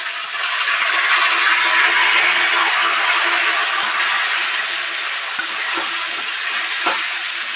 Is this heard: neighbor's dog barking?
no